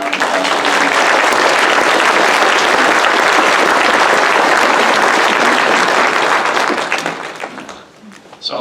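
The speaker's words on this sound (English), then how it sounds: "So I want you to give yourself a good round of applause." Crowd at a UCP town hall meeting breaks into loud, dense applause that holds steady for several seconds, then tapers off as voices begin to emerge.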